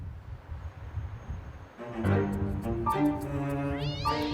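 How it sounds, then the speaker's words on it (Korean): Stray cats fighting, apparently males: after low rustling, loud drawn-out yowls and caterwauls rise and overlap, close by, with sharp pitch swoops toward the end. "달려들어 싸우는 고양이들."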